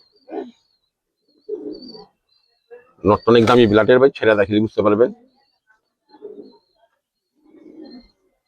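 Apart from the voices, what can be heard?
Giribaz pigeons cooing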